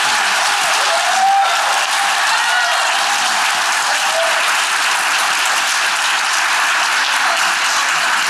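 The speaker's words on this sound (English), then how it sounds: "give them a big round of applause" A large audience at a Houston mayoral forum on parks and greenspace gives the candidates a sustained, loud round of applause, dense clapping that holds steady throughout.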